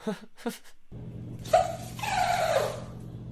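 A dog lets out a brief, odd strained whine that rises and wavers for about a second, fairly faint, after a couple of short soft sounds.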